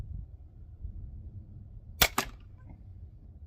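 An automatic crossbow looses a bolt with a sharp, loud snap followed quickly by a second crack, standing out against quiet background rumble.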